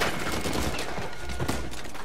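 A machine gun fires in Uncharted 4 on Crushing difficulty, a loud, rapid rattle of shots packed tightly together over a short burst, close and dominant in the game mix.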